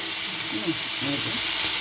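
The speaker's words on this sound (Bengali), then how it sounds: "কাঁচা লঙ্কা চাপতে দিয়ে দিলাম এটা আমি আগে ভেজে নেব" Green chilies with a pinch of salt sizzle in hot oil in a home kitchen, a soft continuous hiss with faint crackles, fairly quiet and steady over the short stretch.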